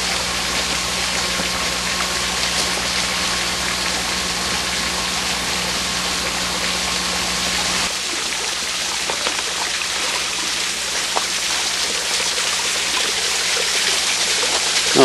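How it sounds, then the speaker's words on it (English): A small waterfall about four or five feet high on a wooded hiking trail at Rumbling Bald pours in a steady, dense broadband rush that stays loud and close throughout, with no voices. "There's a waterfall right up here."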